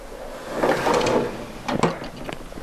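A makeup drawer in a bright white and silver-grey bedroom slides open and shut, two short woody scraping glides about a second apart, close and clear.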